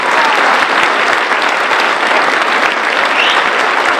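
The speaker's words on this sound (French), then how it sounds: "Vous pouvez les applaudir, ça leur fera plaisir." A crowd at an election rally in Agde applauds continuously, a loud dense wash of clapping that holds steady throughout without any voices.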